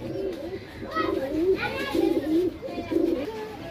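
A pigeon cooing nearby in a series of soft, low, rolling coos, repeated three or four times, with faint background noise and a little talk.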